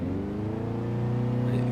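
A Subaru Impreza WRX STI hatchback with a 500 hp build in Forza Horizon 3 revs loudly on a 0-60 launch, its engine note climbing steadily in pitch, close and continuous.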